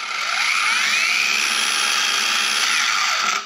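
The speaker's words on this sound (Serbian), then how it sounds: "2 puta pritisnuti ovaj mikroprekidač kako biste pokrenuli mašinu" A Parkside Performance PWSAP 20 Li cordless angle grinder spins up with a rising whine, then holds a loud, steady high-pitched motor hum before cutting off, heard close and alone.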